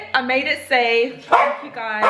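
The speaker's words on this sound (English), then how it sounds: "That's my dog in the back." A dog in the back of a car lets out a quick series of close, loud barks and yips, interleaved with someone talking.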